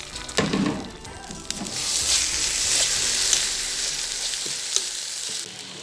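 Onion frying in a hot pan until deep brown: a loud, continuous bright sizzle swells after a few stirring scrapes and knocks at the start, heard up close with no voices.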